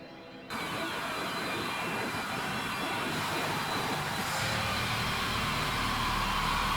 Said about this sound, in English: Almost sounds like a car like driving away,